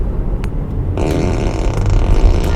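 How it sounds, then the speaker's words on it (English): Fart sound effect from a 2020 Tesla Model 3, controlled from the left steering wheel: a low, rumbling, sputtering blast that starts about a second in and continues loudly to the end, with no talking. "Now you can control the fart with your left steering wheel."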